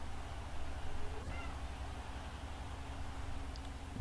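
A cat indoors, desperate to get out, gives a brief, faint meow that sits low under a constant hiss of background noise.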